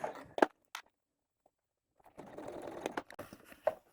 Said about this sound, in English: I am sewing with the main panel down